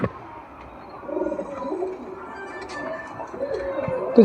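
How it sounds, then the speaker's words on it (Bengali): Pigeons coo in low, soft, throaty rolls, several calls overlapping nearby against a quiet background. "দেখো সব পায়রা ঢুকে গেছে নাকি, আশা করি ঢুকে গেছে সব পায়রা"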